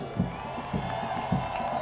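A professional soccer stadium crowd at a Phoenix Rising FC versus Real Monarchs SLC match cheering a returning favorite coming on as a substitute, a continuous far-off roar with rhythmic swells, briefly behind commentary.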